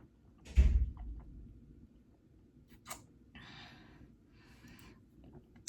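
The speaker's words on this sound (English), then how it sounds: "I hear some doors opening." Doors open and move in a quiet indoor space: a heavy thump near the start, then scattered scrapes, creaks and sliding rustles at moderate distance, with no talking.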